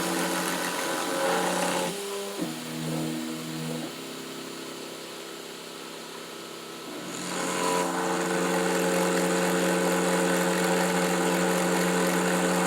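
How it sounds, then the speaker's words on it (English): A CNC router setup hums and drones while other machinery cuts out; the new spindle's quiet whine remains audible before a louder motor, likely an air blower, starts back up. "I figure I'd turn this off for a second so you can hear my new spindle's really nice and quiet"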